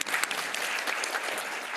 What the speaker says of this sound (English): Let us clap hands.